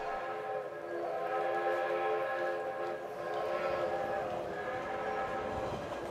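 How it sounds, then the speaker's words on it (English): A passenger train rumbles along with a steady, sustained horn-like drone and low rolling noise, fairly close and continuous throughout. "On the train to the desert, Bob Crawford has unexpected company in the"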